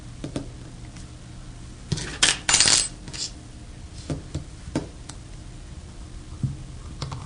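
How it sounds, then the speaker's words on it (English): Small metal clicks and taps from unscrewing the grip frame of an AGD E-Mag paintball marker, with a brief burst of louder rattling midway and scattered faint ticks around it, close up and without talk. "Next, we can unscrew the grip frame"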